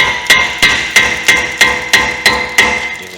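A hammer taps a brake rotor loose during a suspension refresh: seven evenly spaced, sharp metallic strikes with a ringing tone, close and loud, with no talking.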